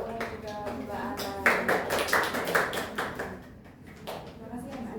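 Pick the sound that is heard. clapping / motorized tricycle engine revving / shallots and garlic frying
clapping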